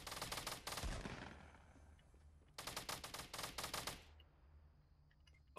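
Rapid automatic gunfire rattles out in Fortnite, two long bursts of sharp repeated shots separated by a short pause, close and loud with no talking.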